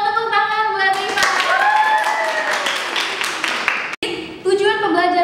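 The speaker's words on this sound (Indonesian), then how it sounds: "tepuk tangan buat Rifa" A classroom group claps for a student named Rifa, a short run of hand claps close by, overlapping with talk and fading out before the talk resumes.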